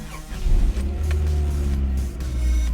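A Honda Prelude engine cranks and catches after sitting unused for five months, then settles into a steady, close, loud idle rumble that holds for several seconds.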